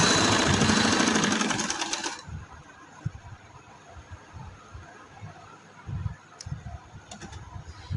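A sewing machine stitching cloth runs in a loud, rapid mechanical whir for about two seconds, then stops, leaving quiet handling and scattered soft thumps of fabric being pulled.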